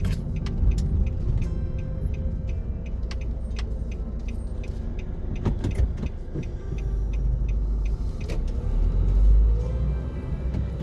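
A car drives along with a steady low road and engine rumble throughout, scattered small clicks and rattles from the cabin, and a slightly louder surge near the end, with no talking.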